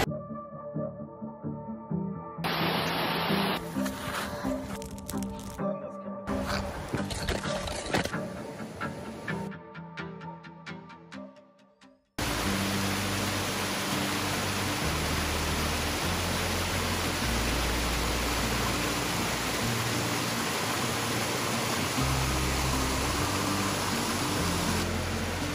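Hasty Brook on the Fundy Footpath in New Brunswick rushes in a loud, steady wash of flowing water after a stretch of muffled handling noise during the crossing.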